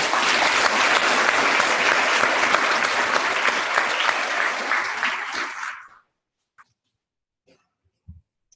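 A crowd at an awards show claps steadily and loudly for several seconds, then the applause fades and stops, leaving near silence with a few faint thumps and a cough.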